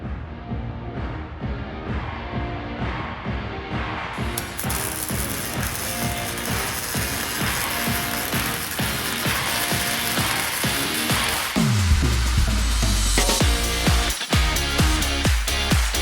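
A ratchet wrench clicks rapidly and repeatedly in close, steady bursts while fuel line mounting tabs are fitted under a 1979-93 Mustang, with a heavy low mechanical rumble joining in near the end.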